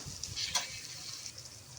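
Onions with chili paste, cumin paste and ginger paste being stirred in a pan, a faint soft sizzle with a few light scraping strokes of a utensil, no talk.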